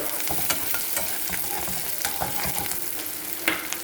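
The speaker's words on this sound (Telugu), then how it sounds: "ఆయిల్ బాగా వేడైంది కదా, త్వరగా వేగుతూ ఉంది." Pieces of okra fry in hot oil, producing a loud, continuous crackling sizzle close by with occasional sharper pops and stirring scrapes throughout.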